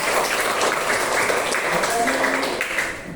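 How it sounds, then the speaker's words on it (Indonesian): Applause in a primary school classroom for a teacher, a steady wash of clapping from pupils lasting a few seconds, with children's voices chattering underneath. "Tepuk tangan buat Bapak"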